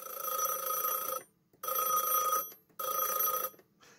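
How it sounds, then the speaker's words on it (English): An old-school telephone with a physical mechanical bell rings in three loud, sustained bursts separated by short silent pauses. "Let's try it with the old school phone that's got an actual physical bell in it."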